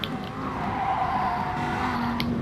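A race car in Gran Turismo skids off the track, its engine droning steadily with a long tire squeal and gravelly scrubbing, loud and close throughout.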